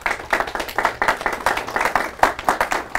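An audience at a talk claps together in a loud, steady burst of applause, with many hands striking in an even rhythm and no speech over it.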